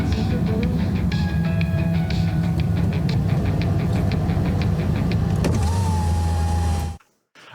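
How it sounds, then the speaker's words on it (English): In-car driving sounds within a music track: a steady low engine and road rumble with a whirring power window motor and rising electronic tones, loud and continuous before cutting abruptly to silence near the end. "That you can hear the driving in the car and everything like that."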